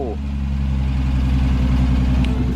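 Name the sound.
1981 Alfa Romeo GT 3.1 liter V6 engine running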